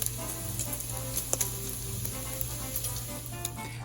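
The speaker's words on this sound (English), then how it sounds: "to a sizzle." Steady sizzling of bacon frying in a pan, a soft crackle with scattered pops and a faint background hum.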